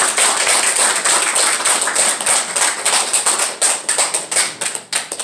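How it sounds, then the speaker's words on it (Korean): A church congregation at a Christmas service applauding a pastor as he comes forward, dense sustained clapping from many hands that fluctuates and thins toward the end. "우리 나오실 때 우리 더 존경하고 축복하는 마음으로 한번 힘차게 박수로 맞이해 주시면"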